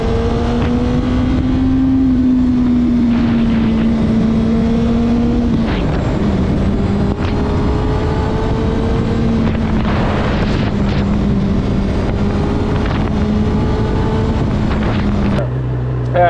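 A Honda CB1000R motorcycle rides at part throttle, its engine holding a steady, loud drone under heavy wind rush. The pitch rises and dips with a shift partway through.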